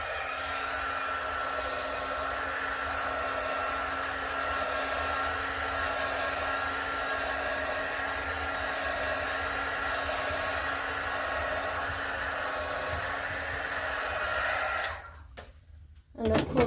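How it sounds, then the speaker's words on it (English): Heat gun blowing on an acrylic Dutch pour painting, a loud, steady close-up whoosh and motor hum that runs for about fifteen seconds before cutting off with a few handling clunks. "I'm going to hit it quick with a heat gun."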